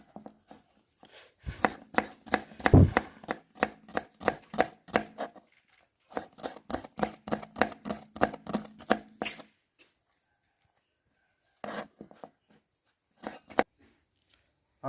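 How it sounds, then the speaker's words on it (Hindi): A knife chops onions on a board for a village-style potato and eggplant dish, rapid rhythmic taps in quick bursts separated by pauses, close and crisp. "सबसे पहले हम काट लेते हैं प्याज"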